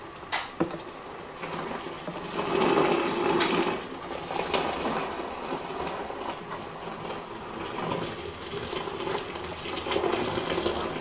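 Hot water pours steadily into a container holding OxyClean for soaking doll clothes, a continuous rushing, gurgling flow that swells and eases over about eleven seconds, close to the microphone with no talking.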